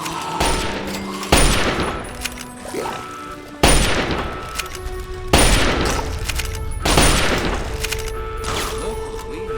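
Gunfire in Fallout 3 on very hard difficulty: five or six heavy, booming shots, each spaced roughly two seconds apart with a long echoing tail, loud and near, under faint background sound.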